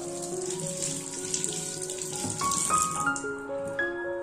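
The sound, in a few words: water running while washing chillies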